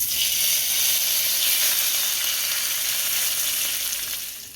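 Curry leaves dropped into hot oil for a Gujarati poha and suji snack, giving a loud, steady, close sizzle and hiss that fades slightly toward the end.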